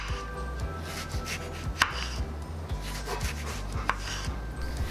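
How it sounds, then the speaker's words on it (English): A knife slicing through a lemon on a board, soft scraping cuts with a few sharper taps, quiet and close against a low steady hum, no voices. "Let's slice a lemon."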